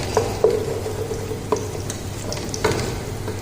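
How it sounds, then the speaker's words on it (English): Cauliflower and potato with spices fry in a pan while being stirred, a steady close sizzle broken by several clanking scrapes of the spoon against the pan. "so have to mix well and cook till 5 to 10 minutes"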